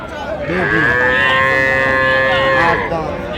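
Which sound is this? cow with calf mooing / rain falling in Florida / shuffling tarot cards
cow with calf mooing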